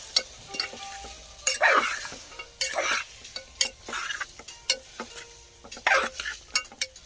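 Salted tomatoes for a thick tomato relish cook in a pan. A low bubbling sizzle runs under repeated close scrapes and clinks of a metal spoon stirring against the pan.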